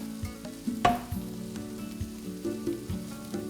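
Butter melting in a hot pan gives a steady crackling sizzle, close and moderate in level, with occasional light clinks and stirring scrapes over the frying.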